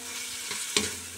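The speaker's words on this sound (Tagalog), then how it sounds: "Igigisa natin itong tomato paste." Tomato paste sautéing with bitter gourd in a pan, a soft steady sizzle with a couple of louder stirring scrapes near the end, close and alone without talk.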